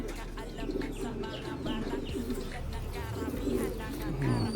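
Racing pigeons coo in soft, repeated low throaty phrases at close range, with faint chirps and constant background noise, as someone talks over them throughout.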